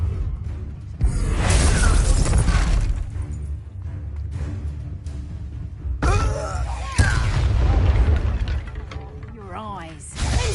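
A Confringo blasting spell explodes during combat in Hogwarts Legacy, one loud burst with a shattering crash among whooshing spell effects and ongoing battle noise, with voices and creature cries around it.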